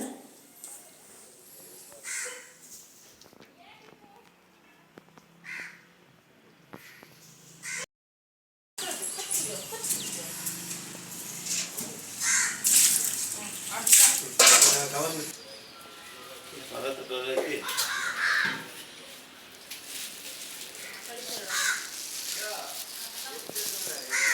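Crows caw near fish being washed outdoors, with bird calls scattered among loud background activity and voices talking throughout, after a brief silent gap.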